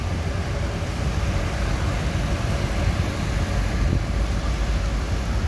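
An intercity bus pulls away, a loud, steady low engine rumble with broadband road noise that holds evenly across the few seconds, no voices clear above it.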